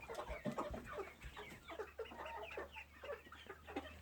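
Several chickens cluck and murmur inside a coop, a busy overlapping chatter of soft clucks and calls close by, fairly quiet, with a low steady hum beneath and no speech.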